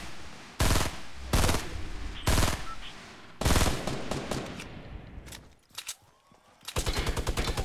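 Automatic gunfire in the video game Fortnite, heard as several loud, separate bursts of rapid shots followed by a denser stretch of firing near the end.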